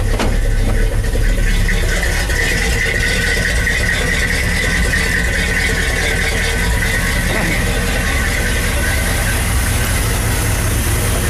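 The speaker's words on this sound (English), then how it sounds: "Old carbureted motor." A Chevy plow truck's old carbureted 350 V8 idles steadily and loudly close by, a continuous low rumble with a faint rattle, holding an even tone throughout with no talk over it.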